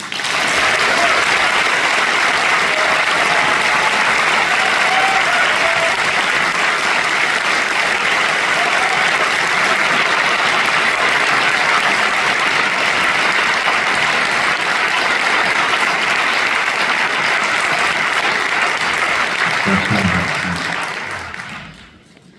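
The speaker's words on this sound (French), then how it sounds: "Alors je vous prie d'accueillir sous un tonnerre d'applaudissements Monsieur Ken Follett." Loud, sustained applause from a large theatre audience welcoming Ken Follett, steady for about twenty seconds before quickly fading out.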